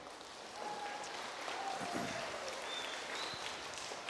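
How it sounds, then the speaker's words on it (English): A school audience at an elementary student-of-the-month event applauds for a teacher, steady moderate clapping heard from some distance in a reverberant room, with faint tones and brief voices mixed in. "Everybody give Mrs. V a round of applause"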